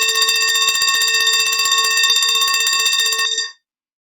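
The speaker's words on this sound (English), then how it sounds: "The bell rang" A school bell rings at the end of class, a loud, continuous metallic ringing with a rapid clatter that holds steady for about three seconds, then cuts off abruptly into silence.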